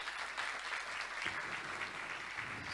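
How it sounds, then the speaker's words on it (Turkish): An audience at a Ramadan Sufi music concert applauds the orchestra in a dense, steady wash of clapping. "orkestramıza güçlü bir alkış rica ediyoruz"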